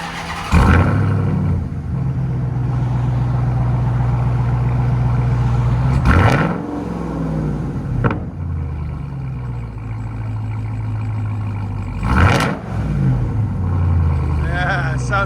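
A 2022 RAM TRX with a 6.2L supercharged Hemi V8 and muffler-deleted exhaust rumbles loudly at close range, snapping into three sharp revs that climb and fall back to a deep, throbbing idle between them.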